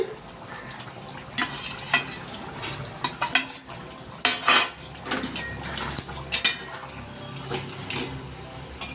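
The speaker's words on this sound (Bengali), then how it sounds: "আমি যে পেঁয়াজটা ভেজে রেখেছিলাম সেটা দিয়ে দিচ্ছি।" Metal spoon clinks and scrapes in a cooking pot as fried onions are stirred into yogurt chicken curry, with intermittent clattering strikes and a faint sizzle beneath, no talking.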